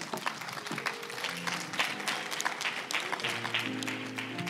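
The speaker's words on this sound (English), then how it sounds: "Give the Lord a hand clap." A church congregation gives a hand clap for the Lord after communion. Applause fills the room with steady broadband clapping, and sustained organ or keyboard tones sit underneath.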